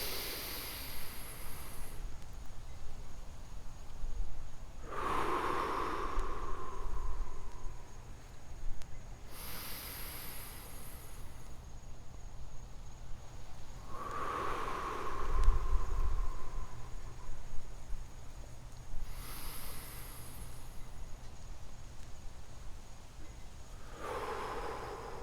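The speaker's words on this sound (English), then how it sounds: "let's take 3 deep breaths again." Three slow, deep breaths during a guided meditation: long hissing inhales, each followed by a softer, airy exhale, spaced several seconds apart and heard close up in a quiet room.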